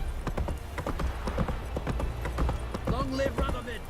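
The horse Roach galloping in The Witcher 3, a fast rhythmic clip-clop of hooves that carries steadily throughout, with game voices and sounds layered on top.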